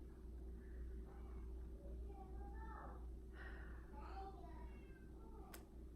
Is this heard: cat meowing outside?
yes